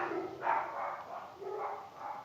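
A large 47 kg dog barks in a garden, a few muffled, fairly distant woofs in a loose rhythm, heard alone without talk.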